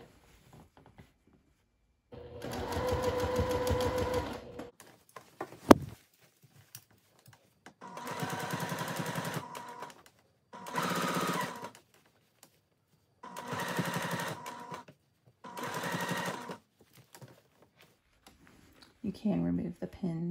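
A sewing machine stitching the bib of a citrus sundress in place, running in six separate bursts of a few seconds each with pauses between, close and clear, with one sharp click and a voice talking in the gaps.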